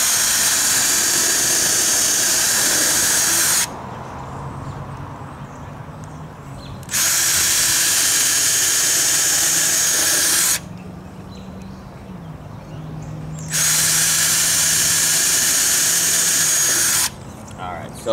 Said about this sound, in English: So I'm gonna go through and drill both of those, the side 2x4s